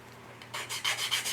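Short back-and-forth sanding strokes rasp across plastic parts of a 1/35 MH-60J/T Jayhawk model kit, a few rhythmic rubbing passes starting after a quiet moment, close and moderately loud.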